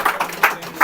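Scattered claps from a small audience at a diploma ceremony for a mobile phone repair institute, a few brief broadband bursts of clapping spaced irregularly rather than a full ovation.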